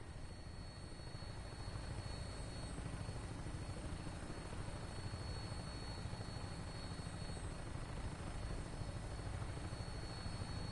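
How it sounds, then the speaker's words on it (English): A vertibird rotorcraft in Fallout 4 keeps up a steady, loud whirring drone with a low rotor chop, unbroken and alone for the whole stretch. "Tinker's gonna keep the vertibird spooled for an immediate takeoff"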